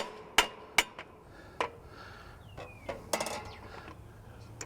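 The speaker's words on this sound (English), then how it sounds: "Tap this with a big screwdriver." A large screwdriver taps a metal conduit connector for a 60 amp AC disconnect, giving several sharp, close metallic clinks spaced irregularly, with quieter rattles in between.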